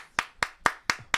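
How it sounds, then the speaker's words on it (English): Five crisp hand claps in a steady, evenly spaced rhythm, close and fairly quiet, with no other sound between them. "Then I applaud you."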